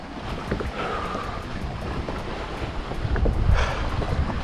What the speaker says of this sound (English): the ocean is very strong. Just loads of waves.